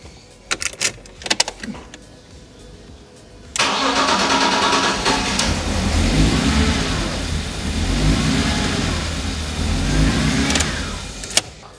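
A car engine with a BMW MS43 ECU cranks with a few short bursts, then catches and runs loudly and unevenly, sputtering and surging for several seconds without talk.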